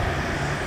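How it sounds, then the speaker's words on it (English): A fixed-wing airplane flying overhead, a loud steady engine roar filling the whole moment, with no voices. "Oh, here comes a plane."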